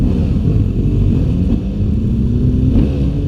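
A 2016 BMW F800GS motorcycle engine runs steadily up close, its low throaty drone holding even and smooth without sharp revving spikes.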